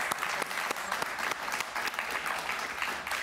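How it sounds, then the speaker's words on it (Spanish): A studio audience applauds steadily on a Spanish-language Miami television talk show, with dense, continuous clapping throughout and no talking over it. "Un aplauso para ellos,"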